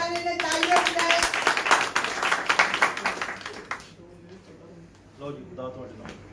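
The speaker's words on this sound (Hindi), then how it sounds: "तालियां बजाएं।" A group at a Friday church service claps together in quick, sharp beats that gradually thin out and stop, after which a voice speaks briefly.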